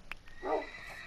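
A single short whinny from a horse in the Minecraft video game on PS4, clear and fairly close, with no one talking.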